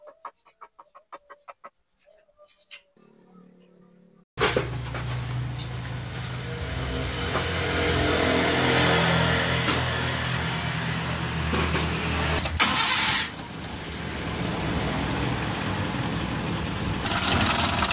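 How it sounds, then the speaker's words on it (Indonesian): Clucking chickens are heard first, then a Suzuki Carry engine with worn timing cover mounts starts and idles loudly and roughly, rumbling continuously with a brief surge partway through. "suaranya kasar banget untuk Suzuki Carry 10"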